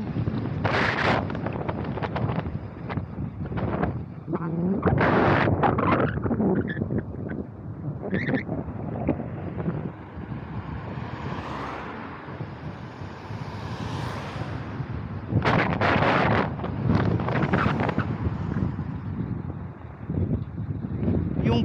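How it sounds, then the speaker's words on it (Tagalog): Strong wind roars and buffets the microphone while coasting downhill on a bicycle outdoors, with gusts rising and falling in loud, rumbling waves. "Lakas ng hangin."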